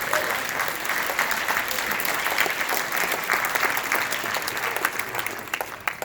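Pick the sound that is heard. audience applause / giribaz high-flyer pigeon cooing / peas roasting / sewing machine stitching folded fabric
audience applause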